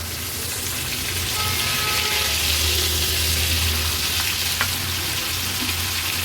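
Black fish fry in an Agri-Koli style pan over a medium gas flame, giving a loud, continuous close sizzle and crackle with faint stirring and no talk.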